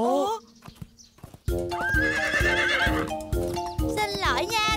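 A cartoon horse lets out a bright, rising whinny over rhythmic clip-clop hoofbeats, loud and close, with a short quieter stretch before the hooves and neighing kick in together.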